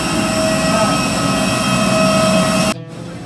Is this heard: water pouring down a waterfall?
no